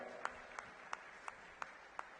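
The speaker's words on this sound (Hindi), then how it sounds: "जोरदार ताली बजा दो भाई" Evenly spaced claps from an audience at a political event in Delhi, six distinct hand claps in a steady rhythm over faint background murmur, fairly quiet and distant.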